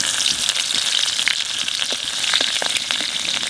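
Nigella seeds and green chilies crackling in hot oil, a steady close sizzle with scattered sharp pops and spits throughout.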